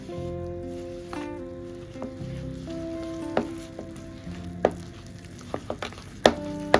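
Batter for bok flower fritters is beaten by hand, giving soft wet slapping and squelching strokes at an uneven pace, with a few sharper pats, under faint tonal background music.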